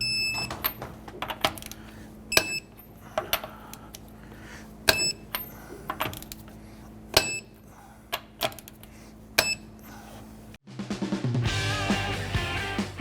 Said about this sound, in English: Let's go ahead and torque our lug nuts down to 95 foot-pounds.